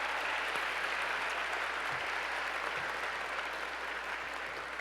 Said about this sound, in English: Can we give the Under Fashion Club another round of applause?